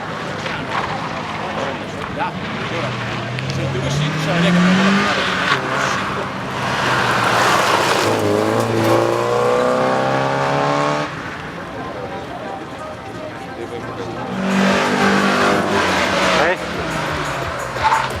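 Rally cars race around a track at the Pontelongo rally show, engines revving and rising in pitch as they pass, loud and continuous, with a person talking over the noise.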